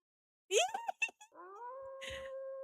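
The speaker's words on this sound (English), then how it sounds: "And suddenly, we hear a wolf howling." A wolf in a video game gives a short run of yelping cries and then settles into a sustained, steady howl, heard alone and fairly close.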